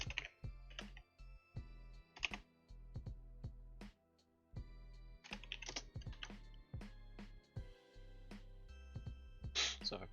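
Computer keyboard keys clicking in irregular clusters of crisp taps with short pauses between, close and fairly quiet, with a steady tonal music bed underneath.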